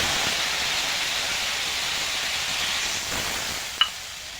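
Water poured onto fried turmeric spice paste for a magur catfish curry gives a loud, steady hiss of steam and sizzling, with a single sharp clink near the end.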